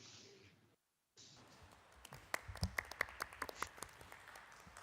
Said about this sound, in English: I hope you could hear the applause here for the leadership that Paris has displayed